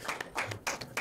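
Sparse hand claps from an audience at a rap performance, a few quiet separate claps in an uneven rhythm over about a second, with no talk over them.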